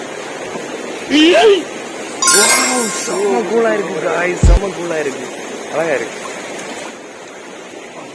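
Water flowing steadily along a stream at Meenmutty Waterfalls, a continuous broadband rush under excited talk from several people close by.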